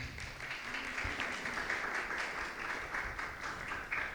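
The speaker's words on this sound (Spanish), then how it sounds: "Le pido un aplauso para Linda" An audience applauds for Linda at a book presentation, a steady wash of many hands clapping that holds at an even level throughout, with no clear voices over it.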